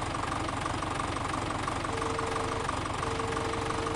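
A small tractor engine in Landwirtschafts-Simulator 17 runs at a steady idle, a continuous low rumble with a faint knocking pulse and no voices.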